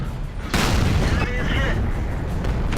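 A tank cannon fires in the World of Tanks game, heard from a T32: a single heavy boom about half a second in, then a sustained rumbling roar, with a voice talking nearby.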